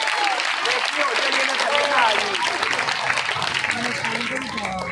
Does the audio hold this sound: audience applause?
yes